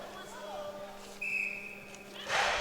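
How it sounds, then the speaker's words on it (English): A referee's whistle starts an under-105 kg event at Europe's Strongest Man 2023, giving a short, bright tone over arena noise while voices talk. "The whistle has been blown."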